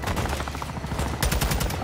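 Rapid bursts of gunfire in the shooter Call of Duty Modern Warfare II, dense and continuous, with a heavier cluster of shots toward the end, loud and close.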